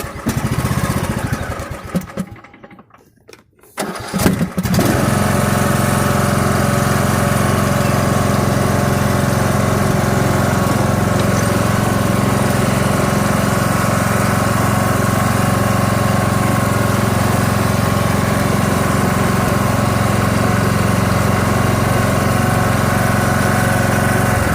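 A Craftsman riding mower with a newly replaced transaxle belt runs close and loud, its engine dipping briefly early on before settling into a steady, continuous drone while it drives forward and backward.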